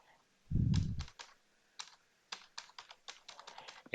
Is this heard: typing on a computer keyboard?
yes